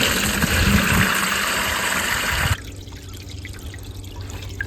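Liquid weed fertilizer is poured through a burlap bag into a bucket, a loud continuous gushing splash that cuts off abruptly midway, leaving faint drips and a low background hum.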